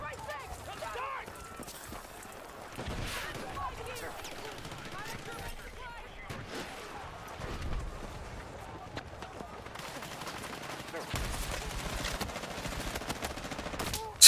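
Rapid video game gunfire crackles continuously under frequent shouted voice chat from a squad match, with bursts of automatic fire and explosions layered together at a steady, busy level.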